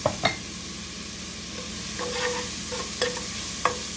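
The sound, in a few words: sautéing ingredients in a pan for oyster stew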